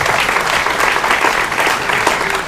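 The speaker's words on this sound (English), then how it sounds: "So let's give them a round of applause." An audience at a small live music performance claps steadily, a dense, even wash of applause filling the whole moment with no voices over it.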